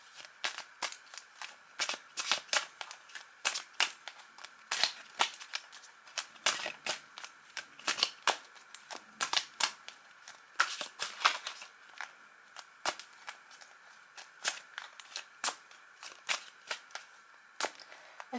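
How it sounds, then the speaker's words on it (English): A deck of tarot cards shuffled close by, with repeated quick riffling snaps and papery flutters in irregular bursts, alone without talk. "So let me give these cards a good shuffle."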